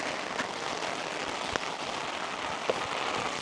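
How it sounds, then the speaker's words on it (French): Rain falls steadily on a ranch, a dense even patter with a few sharper drops hitting nearby surfaces. "il pleut enfin comme je l'espérais"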